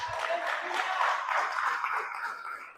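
Church congregation clapping during a worship service, a steady wash of many hands applauding at moderate distance, continuous and fairly even throughout, slightly fading at the end.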